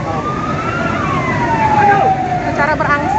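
Wailing fire engine sirens sweep up and down over heavy traffic rumble as fire trucks keep arriving at a blaze at a government office in Palembang, loud and close, with voices talking underneath.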